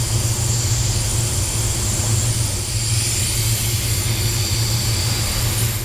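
A paint spray gun at full trigger lays clear coat over a BMW bumper in a matte PPG finish, giving a loud, steady, broadband airy roar that runs unbroken.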